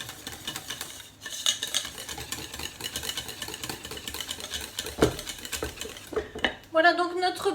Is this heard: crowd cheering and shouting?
no